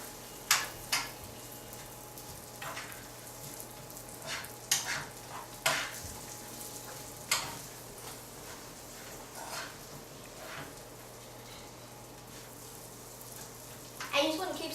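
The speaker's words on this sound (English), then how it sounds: "you just want to keep stirring this until all the butter is melted and it's kind of simmering" Pecans stirred through melting butter and brown sugar in a pan, with a steady soft sizzle broken by repeated scraping strokes and light clinks of the utensil, fairly close.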